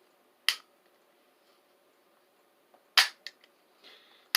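A cap gun musket's percussion caps snap without firing, sharp isolated cracks: one, then a pair a few seconds later with small clicks of handling between, and another snap at the very end, close and loud against near silence.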